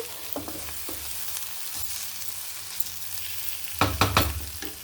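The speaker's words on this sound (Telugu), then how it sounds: "ఫైవ్ టు టెన్ మినిట్స్ మనం సిమ్లో ఇట్లా తిప్పుకుంటూ ఉండాలి" Carrot, beetroot and coconut curry stir-fried in a pan on a low flame, with a soft continuous sizzle, occasional spoon scrapes, and a cluster of sharper clatters near the end.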